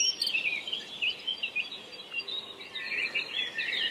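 Small birds chirp and trill at a forest edge in early morning, a busy layered chorus of high, quick calls close by over a quiet outdoor background, with no talking.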